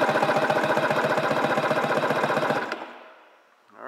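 A 1996 Sea-Doo XP 800 two-stroke engine cranks over on its starter during a compression test, a loud, rapid rhythmic chugging that runs steadily for about two and a half seconds, then cuts off and leaves a faint whir.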